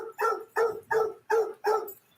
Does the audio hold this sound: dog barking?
yes